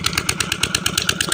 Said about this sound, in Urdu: اے پیٹر چل رہا ہے